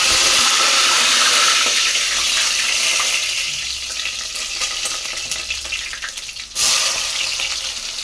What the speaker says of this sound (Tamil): பெருங்காயம் போட்டுக்கலாம், பூண்டு போட்டுக்கலாம், பத்து கருவேப்பிலை போட்டுக்கலாம்